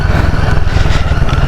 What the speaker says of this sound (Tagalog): binabalansin na lang natin ang motor